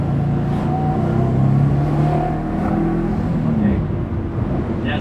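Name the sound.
1995 Subaru GC8 accelerating under boost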